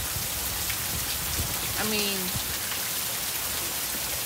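Steady rain patters down on a surface in Oklahoma, a dense, even hiss that runs throughout, with a brief voice speaking partway through.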